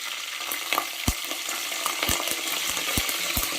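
Fennel seeds, bay leaf and curry leaves fry in hot oil for chicken biryani, giving a steady close sizzle with sharp pops and crackles spaced through it.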